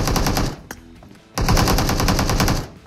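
Rapid automatic gunfire from PUBG Mobile on the Sanhok map rattles loudly in two sustained bursts separated by a short pause, close and dominant.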